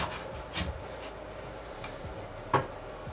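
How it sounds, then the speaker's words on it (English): A carrot is rubbed across a cheese grater in soft, intermittent rasping strokes, fairly quiet, with a few sharper scrapes. "Potato peeler is no longer my friend. My new friend is the cheese grater."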